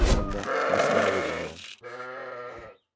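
Two loud, close bleats from lambs, one long wavering cry followed by a shorter one, with no talking.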